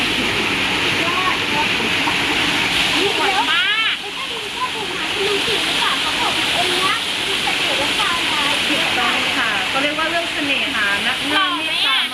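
Waterfall at a nature spot: a steady, loud rushing roar of falling water fills the whole stretch, with people talking over it throughout.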